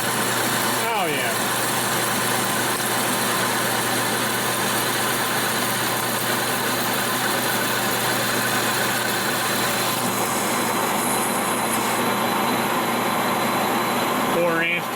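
A metal lathe takes a heavy quarter-inch cut while turning a bushing, a loud, steady mechanical drone that runs unbroken for the whole stretch, with a brief shift near the start.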